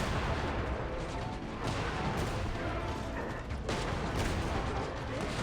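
AoE cannons firing in Genshin Impact: a dense, continuous barrage of booming blasts and mechanical rumble filling the whole stretch, loud and close, with no pauses between volleys.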